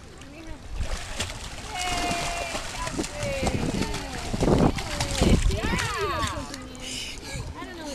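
A child swimming in a pool during a swimming lesson, with arm strokes and kicking feet making repeated splashes and sloshing water, close by, under the voices of adults and children talking.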